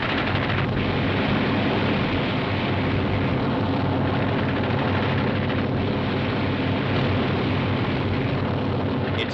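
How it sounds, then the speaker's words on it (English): Jet-powered military helicopters taking off over a river area, a loud continuous engine and rotor roar filling the whole stretch without voices. "these jet choppers are soon airborne"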